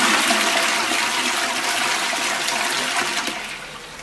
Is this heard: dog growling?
no